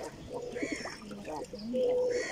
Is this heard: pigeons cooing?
yes